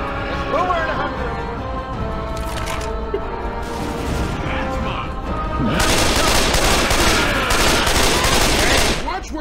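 Gunfire in a cooperative zombie survival video game: bursts of rapid automatic shots blaring loud and continuous, heaviest in the second half, with game effects and players talking over it.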